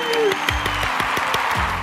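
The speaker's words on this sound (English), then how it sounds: "So let's give a round of applause for Pikachu." Applause from a crowd or clapping track closing a Pokémon card pack battle, a dense steady wash of claps with rhythmic low thumps running underneath at an even loudness throughout.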